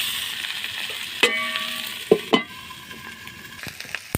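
Potatoes being stirred into fried spices in a pan for a fish curry: steady sizzle with a few sharp scraping clicks and knocks from the spoon, close and alone.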